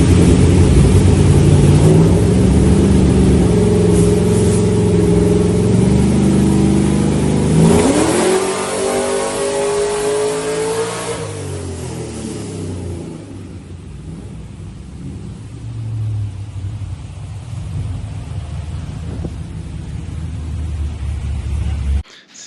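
A loud, throaty nitrous-fed LS1 V8 car engine rumbles and revs, rising in pitch mid-clip before settling back to a steady idle.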